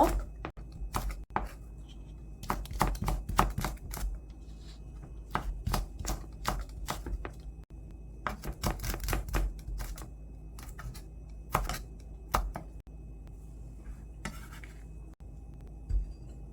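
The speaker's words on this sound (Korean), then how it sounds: "청양고추는 미리 씨를 제거했는데요. 길게 썰어서 준비해 주고요" A knife slicing seeded Cheongyang chili peppers lengthwise on a cutting board for burdock kimchi: close, crisp taps in quick irregular bursts separated by short pauses.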